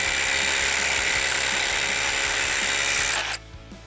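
A RIDGID Gen5X MEGAMax power tool chiseling into a block hammers away loudly and continuously with a dense rattling roar, then cuts off abruptly near the end, leaving only a faint tail.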